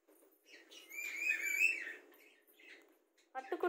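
A pet talking parrot gives a loud, drawn-out whistling call, followed by softer chirps and a sharp squawk at the end, close by in a quiet room.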